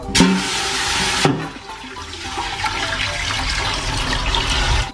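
Soup stock pours into a pan while cooking a red braised fish maw dish, a loud rushing splash starting abruptly then settling into a steady liquid flow for several seconds.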